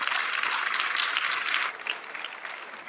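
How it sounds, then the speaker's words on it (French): An audience at a comedy performance in Lomé applauds steadily, a dense, even wash of clapping that holds strong and then eases slightly toward the end, with no talking over it. "Applaudissez-vous."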